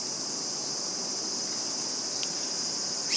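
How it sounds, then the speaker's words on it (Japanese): A dense chorus of cicadas shrills at night under a blue moon, a steady, unbroken high-pitched drone at moderate volume with no voices. "夜中のセミしぐれとのコラボをお楽しみください。"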